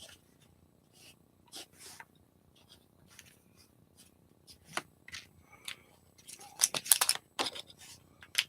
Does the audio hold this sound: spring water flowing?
no